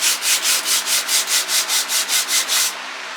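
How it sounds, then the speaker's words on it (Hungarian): Kitchen knife blade drawn across sandpaper in about eleven even, rhythmic rasping strokes, close and loud, then stopping abruptly. "meg egy csiszolópapíron meghúzkodom párszor"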